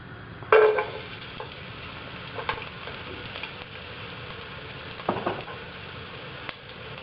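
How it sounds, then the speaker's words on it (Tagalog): Garlic dropped into hot oil in a cooking pot gives a faint, continuous sizzle, with a few short clatters of utensils against the pot, no voices. "Now, kapag mainit na yung oil, ilalagay na natin yung garlic."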